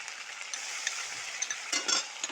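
A ground paste of cumin, ginger, cardamom and garlic fries in goat fat in a pan while being stirred, giving a close crackling sizzle with sharp scraping pops near the end and no talk.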